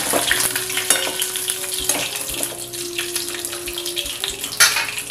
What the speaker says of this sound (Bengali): আমি দেখছি মাছগুলো আমার ভাজা হয়ে গেছে